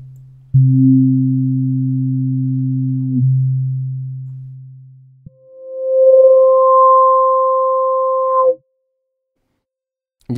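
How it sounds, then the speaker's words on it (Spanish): Smooth synth tones in FL Studio hold steady pitches one after another, the tone brightening as the filter opens and dulling as it closes, with clean silence between notes. "estaríamos escuchando que el filtro se va a abrir, luego va a volverse a cerrar"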